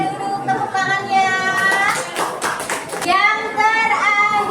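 Classroom students clapping together after a group presentation, a moderately loud burst of applause mixed with children's voices talking over it.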